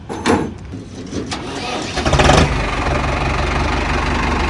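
A Mahindra Arjun Novo tractor engine running with its silencer pipe removed: a rough, uneven start that settles after two seconds into a loud, steady, close drone.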